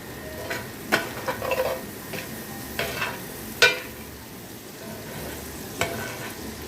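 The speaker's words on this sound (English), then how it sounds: "Now, I'm going to add the bacon to our mixture." Bacon fries in a pan for a bacon jam as it is stirred into the mixture, giving a constant close sizzle with irregular scraping and knocking strokes of the utensil.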